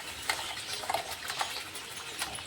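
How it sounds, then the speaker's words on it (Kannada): Ground masala dropped into hot oil for a dhaba-style egg gravy, crackling softly while a spoon scrapes and stirs the pan, with light clicks of utensil against metal throughout. "ಈ ಎಣ್ಣೆ ಒಳಗೆ ನಾನು ರುಬ್ಬಿಟ್ಟಿರುವಂಥ ಮಸಾಲೆನ ಹಾಕೋತೀನಿ."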